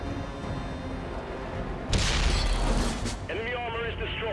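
A tank cannon in the War Stories video game fires at enemy armor: one loud, deep boom breaks over a steady engine rumble and rolls on for about a second, then a clanking mechanical rattle follows.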